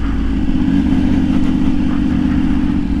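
Steady, loud motorcycle engine drone holding a constant low rumble throughout, close by and continuous, as bikes pass on an early-morning ride along a four-lane road.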